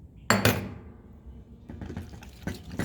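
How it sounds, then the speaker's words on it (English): A whisk clinks and scrapes against a bowl while working chocolate mousse mixture, opening with a sharp metallic knock, then a pause, then a series of quieter rhythmic taps and scrapes. "We're just gonna whisk it in."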